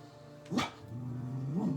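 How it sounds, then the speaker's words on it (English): A puppy gives a single sharp bark, then a drawn-out whine or yip indoors, fairly close and moderately loud. "We got a puppy in here tonight."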